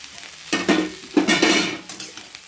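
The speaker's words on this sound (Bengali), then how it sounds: "এমনি করে নিম বেগুনটা ভাজা" Neem leaves and eggplant fry in a pan, with two loud bursts of sizzling and stirring as the pieces are turned, then fading to a quieter crackle.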